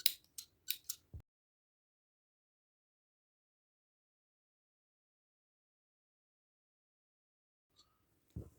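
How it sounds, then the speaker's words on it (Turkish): Scissors snip through crochet yarn in a quick cluster of sharp, close cuts, followed by a long silence and one more faint click and snip at the end. "ipimi kesiyorum"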